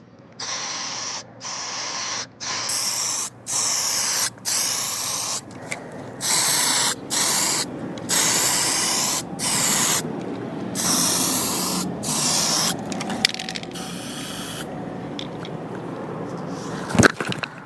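Spray can laying primer onto a car bumper in a series of repeated bursts, each a steady hiss lasting about a second, separated by brief pauses, close and fairly loud.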